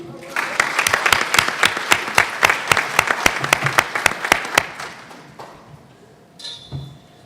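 Applause from a conference audience greeting Congresswoman Sheila Jackson Lee: loud, rhythmic clapping with sharp regular claps for about five seconds, then fading into scattered claps and low room murmur.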